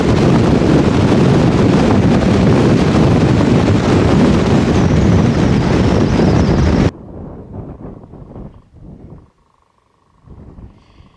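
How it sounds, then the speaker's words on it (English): Strong wind roars and buffets the microphone in a loud, continuous rush for several seconds over Ladrow Rocks on the Pennine Way, then cuts off abruptly to quieter, intermittent gusts. "It's a wee bit windy."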